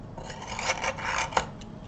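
A small drill bit works slowly into the side of a Premo polymer clay pendant, giving close, scratchy rasping strokes in uneven bursts with a sharper scrape near the end.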